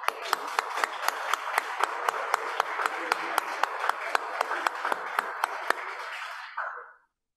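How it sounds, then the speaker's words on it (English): Applause for the Lieutenant Governor at the grand opening of the World Urban Pavilion in Regent Park: a small audience claps steadily with sharp individual hand claps standing out, fading away near the end. "We would like to give her a round of applause and thank you for being here."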